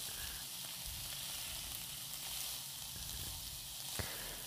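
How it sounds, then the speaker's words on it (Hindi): Capsicum and other vegetables stir-frying for veggie pasta make a soft, continuous sizzle, fairly quiet and even, with one small clink near the end. "इनको स्टर फ्राई कर लेंगे"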